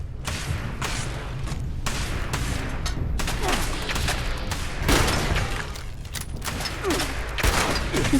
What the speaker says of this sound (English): There's a robot there who's shooting lasers at me.